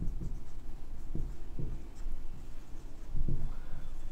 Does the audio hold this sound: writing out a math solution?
yes